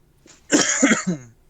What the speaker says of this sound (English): I had to clear my throat.